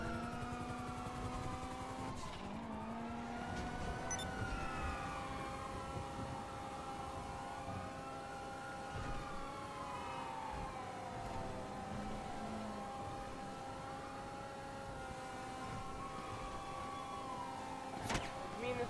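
In the video game GTA 5, a police siren wails in long rising and falling sweeps over a steady engine drone, fairly faint and continuous, with no voices.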